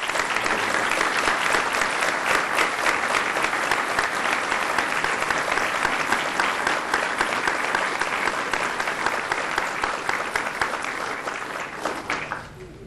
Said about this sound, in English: Can we give a round of applause to Adriana?